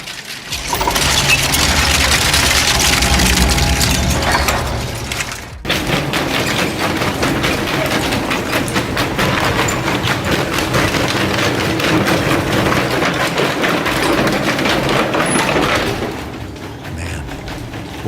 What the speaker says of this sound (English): Watching that four-shaft shredder rip apart fibers feels unreal.